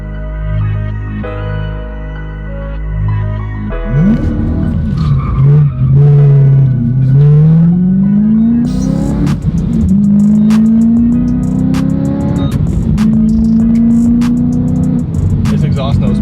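A Lamborghini Huracan fitted with a Remus exhaust idles with a deep drone before pulling away, then its engine note climbs through several rising gear pulls with sharp crackles and pops, loud and close throughout.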